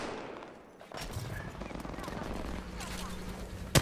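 Rapid game gunfire crackles in dense bursts through most of the few seconds, mid-distance and moderately loud, with a voice talking over it.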